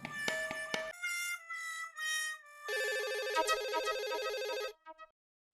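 A home telephone rings in an electronic ringtone, several repeated melodic bursts with a short pause between them before the ringing cuts off, with no voices during it.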